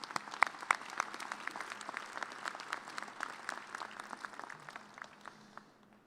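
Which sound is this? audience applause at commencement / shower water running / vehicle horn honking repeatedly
audience applause at commencement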